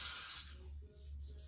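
Got2b hairspray sprays onto a wig stocking cap in a short, close, breathy hiss that fades after about half a second, leaving a faint low hum.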